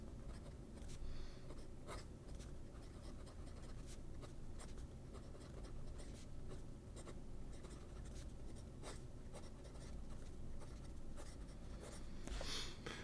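A fountain pen with a number 5 nib writes on paper up close, giving soft, quiet scratching strokes in an irregular rhythm with brief pauses between words, and no talk.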